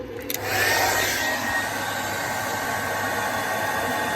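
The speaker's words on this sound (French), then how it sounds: "Il y a le sèche-cheveux" A hair dryer switches on after a click and keeps blowing with a steady, loud whooshing hum.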